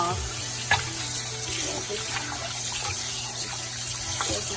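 Tap water runs steadily over raw chicken being rinsed with vinegar in a sink, a close continuous splash and gush with a faint voice briefly heard.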